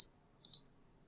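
Computer mouse clicks while choosing a menu option on a course web page: one sharp click at the start, then a quick close double click a moment later, in a quiet room with no talk.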